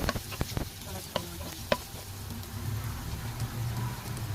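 Gravy frying in oil in a pan gives a soft, steady sizzle, with a few sharp scraping taps early on, then a continuous low bubbling hiss, fairly quiet and close.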